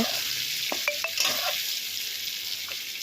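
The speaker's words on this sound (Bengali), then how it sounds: "এখন আলুগুলোকে লাল করে ভেজে নেওয়া হবে" Potato pieces coated with turmeric and salt fry in oil with a continuous, close sizzle and a few light stirring scrapes early on.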